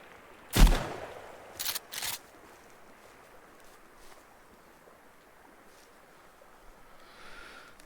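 Shotgun blasts in the survival video game Sons of the Forest: one loud boom, then two quicker shots close together, followed by quiet wind-like ambience.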